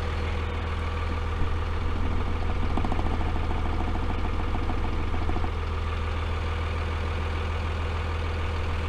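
A Freightliner FL70 truck's engine idles with a steady low rumble throughout, close and continuous with no talk.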